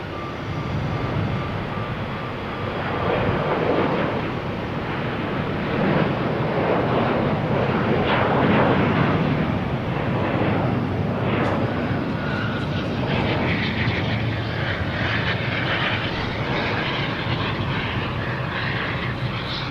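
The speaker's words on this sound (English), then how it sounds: "You also have JetBlue coming in" A JetBlue airliner arriving from LAX at Boston Logan Airport roars steadily overhead for the whole stretch, a broad, loud jet rumble that swells in the middle and stays strong throughout, with some wind buffeting the microphone.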